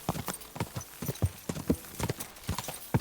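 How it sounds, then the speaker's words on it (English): Horse hooves pound out a quick, uneven galloping clip-clop in a medieval video game, fairly close and moderately loud, with a brief whinny-like edge and a faint voice in the background. "Bad horse riding, Bish."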